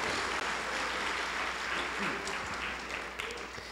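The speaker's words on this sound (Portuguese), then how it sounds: "Aplauda bem forte o nome do Deus Todo-Poderoso." A church congregation claps loudly during a worship service, a dense, steady wash of applause that continues without a break and fades slightly near the end.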